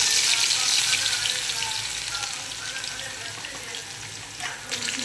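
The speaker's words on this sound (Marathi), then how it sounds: "जिरे आणि मोहरीला सोनेरी कलर देऊ" Cumin and mustard seeds fry in hot oil with a steady soft sizzle and crackle that continues evenly and fairly quietly throughout, with no talk over it.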